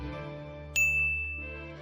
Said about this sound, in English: What's that chime? Oh, the cooker must be done.